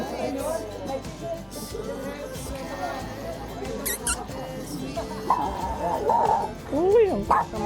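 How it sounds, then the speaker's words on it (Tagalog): Several dogs bark and yip at moderate distance amid outdoor background noise and people talking, with a higher whining yelp near the end. "May mga aso pala dito."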